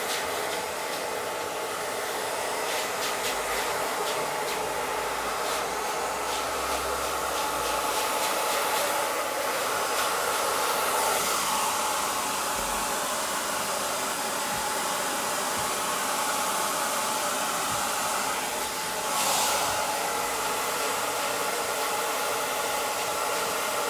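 A hair dryer blows steadily while drying a man's hair, producing a constant airy whoosh at moderate loudness. Its tone shifts slightly as the nozzle moves, and no one speaks.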